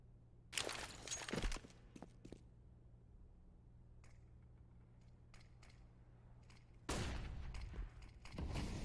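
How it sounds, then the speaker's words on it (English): AUG rifle sprays in a Counter-Strike match on the Mirage map, loud rapid bursts of gunfire at the start and again near the end, with quieter clicks and footsteps in between. "AUG in for shocking, sprays down Bintep, 5 on 3."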